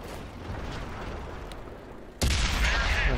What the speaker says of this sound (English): I put a shot into him